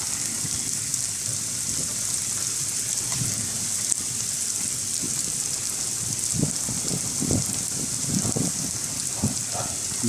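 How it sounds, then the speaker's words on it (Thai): Heavy rain pouring down at an excavator worksite during the rainy season in Thailand, a dense steady hiss with scattered louder drips and splashes nearby. "อีกหนึ่งวันครับที่ฝนตกนะตักเยอะจริงๆครับ"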